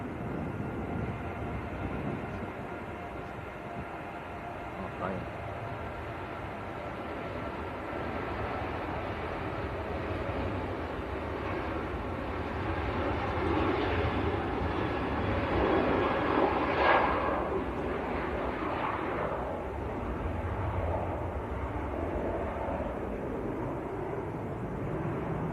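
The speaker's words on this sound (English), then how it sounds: "Ryanair to Rabat down in Morocco on the roll." A Ryanair jet makes its takeoff roll at Manchester Airport, a distant, steady engine roar that swells slightly midway and holds with no talking.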